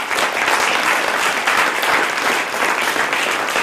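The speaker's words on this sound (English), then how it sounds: "please give our professional panel a round of applause" Loud, dense round of applause from an audience for a panel, unbroken and even across the whole stretch with no talking over it.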